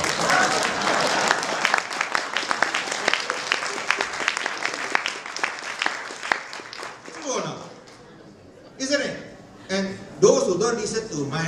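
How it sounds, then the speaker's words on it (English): A crowd at a talk by a chief minister about Penang and property breaks into dense, sustained applause with many overlapping claps. It tapers off after several seconds, and a voice then resumes speaking. "Clap lah."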